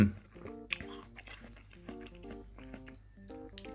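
Someone eats watermelon with sticky rice, the bites giving soft, wet chewing and smacking sounds up close, with a few louder crunchy bites and no talking.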